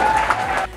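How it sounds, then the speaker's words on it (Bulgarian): Short, fairly loud applause from an audience at a competition event, a brief burst of clapping and crowd noise that fades within a second. "Аплодисменти за него и за брат Близнак Тигърчо."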